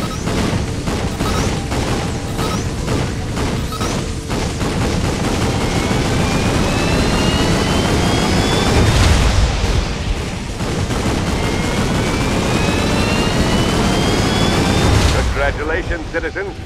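Weapon fire from Ratchet & Clank All 4 One, with combustors fired together for a supercharged blast. Dense, loud game combat audio with rising whistling tones runs throughout, and two heavier bursts land around the middle and near the end.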